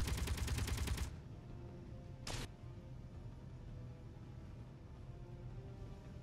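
Turret gunfire in the space-building game Space Engineers: a dense rapid burst of shots for about a second, then a single sharp crack, followed by low mechanical hum.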